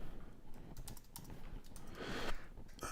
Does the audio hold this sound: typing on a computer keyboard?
yes